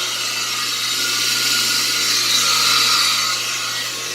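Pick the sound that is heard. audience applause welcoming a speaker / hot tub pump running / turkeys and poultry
hot tub pump running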